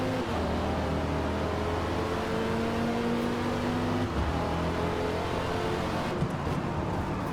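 A Dodge Viper race car in Forza Motorsport drives at speed on track, its engine a loud, continuous close drone with gradual pitch shifts as it runs among other cars, no voices.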